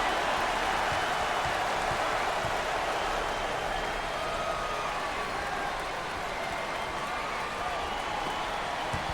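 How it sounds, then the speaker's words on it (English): A college basketball arena crowd in the NCAA Basketball 10 game, Colorado at Kansas, keeps up a steady roar like continuous applause and cheering. It stays dense and even throughout, with a faint voice in the mix. "the intensity is definitely starting to grow with this crowd right now"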